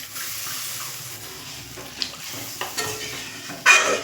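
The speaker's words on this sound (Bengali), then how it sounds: "গরুর দুধ, সরষে পাউডার, সরষে বাটা আর নারকেলের দুধটাও আমি দিয়ে দিচ্ছি।" Cow's milk, mustard powder, mustard paste and coconut milk go into a hot pan for a rohu fish malai curry, producing a quiet steady simmering hiss with a few soft clinks and a brief louder splash at the end.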